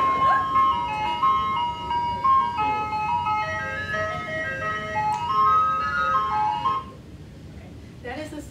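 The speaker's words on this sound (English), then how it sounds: "That is a song from an ice cream truck." An ice cream truck plays its jingle, a bright chiming melody looping steadily over a low rumble of road traffic before cutting off near the end.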